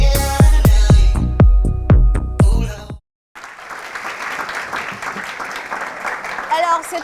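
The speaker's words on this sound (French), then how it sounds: "Merci encore une fois de l'applaudir, s'il vous plaît" Audience applause at a French television show after a guest's portrait, dense clapping that starts abruptly after a stretch of plucked music and continues steadily at moderate loudness.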